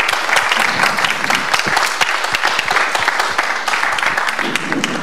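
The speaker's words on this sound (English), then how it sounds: "please join me by applauding our young journalists" Audience applause for young journalists, Radio Free Europe/Radio Liberty fellows, at a panel discussion; loud, steady clapping from a sizeable room throughout.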